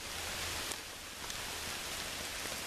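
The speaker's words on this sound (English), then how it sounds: "we had a good heavy rainstorm. and it is still coming down pretty good" Steady, dense rain hiss from a heavy rainstorm on the Appalachian Trail fills the scene without pause, a broad wash of falling water with faint low rumble underneath and no voices.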